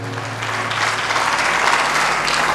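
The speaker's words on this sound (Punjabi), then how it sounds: "ਤਾਲੀ ਮਾਰੀਏ ਜ਼ੋਰ ਦੇ ਨਾਲ।" A congregation at a sermon claps hard and steadily, a dense, loud, continuous applause that fills the space for its full length with no talk over it.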